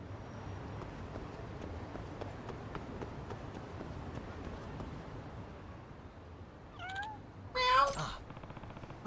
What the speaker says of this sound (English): Oh, what's the matter, kitty?